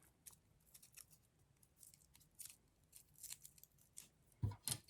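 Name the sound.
trimming florist tape-wrapped flower stem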